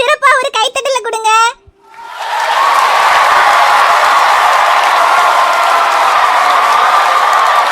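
School audience applauding a child on stage: a short spoken voice opens, then after a brief gap steady dense clapping and crowd noise rise and hold, loud and sustained to the end.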